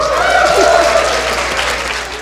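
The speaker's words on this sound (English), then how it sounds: "Can I get a little applause for fun and excitement?" Audience applause at MineCon, a Minecraft convention, fills a large hall with steady, dense clapping and a few cheers that taper off slightly toward the end.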